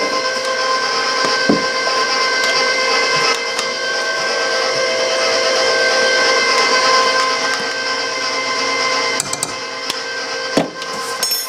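An electric mixer beats Christmas cookie dough, a loud, steady whirring hum with bright tonal harmonics that runs unbroken throughout, with occasional knocks against the bowl.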